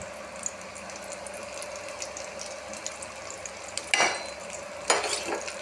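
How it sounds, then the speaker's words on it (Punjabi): Green chillies fry in a pan with spices, dhaba style, giving a soft continuous sizzle with a couple of louder stirring scrapes near the end, close and fairly quiet with no voices. "ਮਿਰਚਾਂ ਆਪਣੀਆਂ ਚੰਗੀ ਤਰ੍ਹਾਂ ਫਰਾਈ ਹੋ ਚੁੱਕੀਆਂ ਜੀ"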